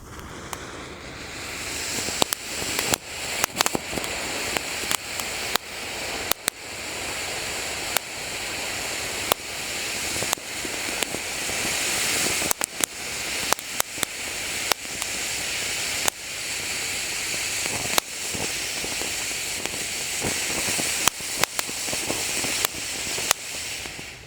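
A Super Jumbo fountain firework sprays sparks with a loud, continuous rushing hiss, broken by many sharp crackles and pops, close by and steady for over twenty seconds with no talking.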